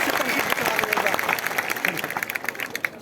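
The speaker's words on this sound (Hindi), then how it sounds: "बड़ा हाथ से ताली" A crowd at a political rally of the Tipra Motha party claps steadily and densely throughout, a loud continuous wash of applause with voices mixed in.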